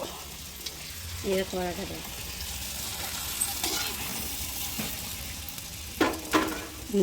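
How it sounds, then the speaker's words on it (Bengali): Fuchka puris fry in hot oil with a steady, soft sizzle, broken by a few sharper crackles and clinks, while voices talk faintly nearby. "অর্ধেক এখন সবে ভাজা হচ্ছে"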